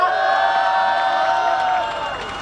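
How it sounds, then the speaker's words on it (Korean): A large crowd at a candlelight rally in Incheon, South Korea cheers and claps in a steady, loud roar with whoops mixed in, fading slightly at the end. "다시 한번 큰 박수와 환호 부탁드리겠습니다"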